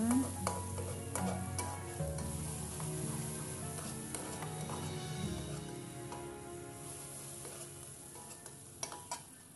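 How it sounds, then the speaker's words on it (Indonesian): Spice paste for shrimp-paste fried rice (nasi goreng terasi) sizzles steadily in a pan while a utensil stirs and scrapes it, with occasional sharp clinks against the metal; close and continuous, with no talk. "tumis bumbunya, aduk-aduk dulu, bumbunya ditumis sampai matang ya"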